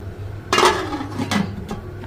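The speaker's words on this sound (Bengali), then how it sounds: "আর ঢাকনা দিয়ে রেখে দিচ্ছি" A metal pot lid is set down on a cooking pot on the stove, giving two or three close clanks and a short rattle, with no voices.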